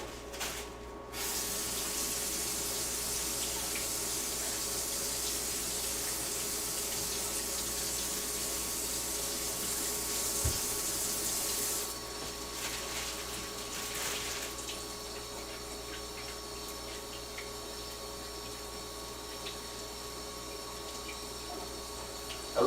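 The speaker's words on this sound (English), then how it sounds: "First up, we're going to start with the taters. They take the longest to cook. Going to give them a rinse off right off the bat." Tap water runs in a steady stream over potatoes being rinsed in a kitchen sink, a constant close hiss with a faint low hum beneath, easing slightly partway through and never interrupted by speech.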